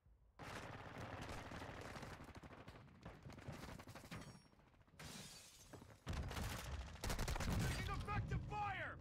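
Video game gunfire with bursts of shots and shattering impacts, loud and near, with sharper heavier volleys toward the end and faint voices mixed in.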